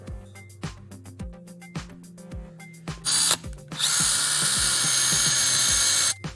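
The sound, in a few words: power drill drilling hole into wall stud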